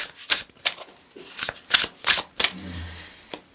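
A deck of tarot cards is shuffled close up in a tarot reading, giving a series of soft riffling bursts at an uneven rhythm, each a short papery flutter, with no talking.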